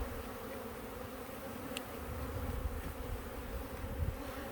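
Carniolan honey bees buzz inside a large hive in the Rocky Mountains, a dense steady drone of many wings, fairly faint and continuous with no talk.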